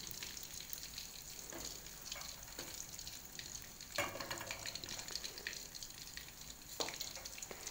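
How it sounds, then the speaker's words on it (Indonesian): Food shallow-frying in hot oil in a pan, briefly browned before being flipped, gives a steady close sizzle with scattered pops and crackles throughout, no talking. "Ini gorengnya sebentar aja, setelah berubah agak coklat sedikit seperti ini kemudian dibalik dan diangkat."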